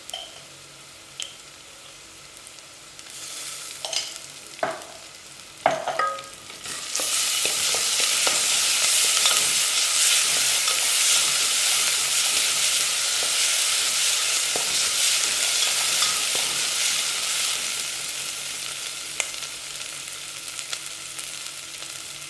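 Black pepper and garlic paste hit a hot pan for soup with a few sharp clinks of a spoon first, then a loud, sustained sizzle that holds steady and eases slightly toward the end, with no talking.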